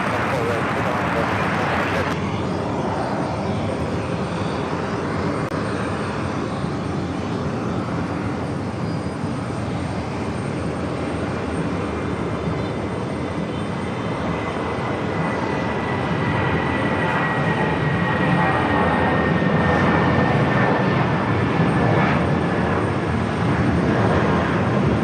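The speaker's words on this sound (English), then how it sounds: "Next takeoff, JetBlue Flight 883 heading to Orlando. It's an A320." A JetBlue Airbus A320 taking off from JFK for Orlando produces a sustained engine roar that swells toward the end, with a voice talking over it.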